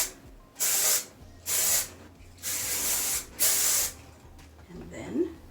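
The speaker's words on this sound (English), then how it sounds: "Spray." Hairspray sprayed onto freshly curled, styled hair: four short hissing bursts close by, each about half a second long with brief pauses between.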